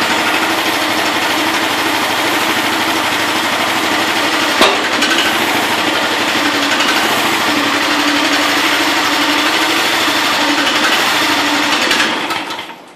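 A homemade tractor's small engine runs with a loud, steady, buzzing clatter, then dies off abruptly at the end as it stalls.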